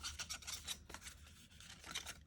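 Sheets of paper being folded by hand for a papercraft Hanukkah Star of David box: quiet, quick rustling and rubbing strokes in a brisk rhythm, close up with no talk.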